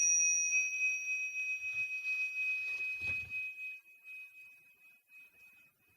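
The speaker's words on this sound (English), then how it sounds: "So let's use the bell to focus our attention." A single meditation bell is struck once, its clear sustained tone ringing from the start and slowly fading away over several seconds with a soft thump partway through.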